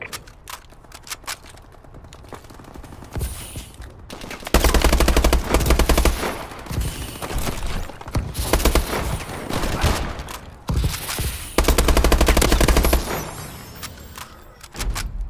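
Bursts of automatic machine gun fire in a Call of Duty multiplayer match, with loud sustained volleys and short gaps between them, mixed with scattered game effects.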